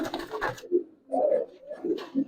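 Pigeons of an old Giribaz and Palla line coo in short, low, throaty bursts, close by in a quiet room, with a soft rustle at the start.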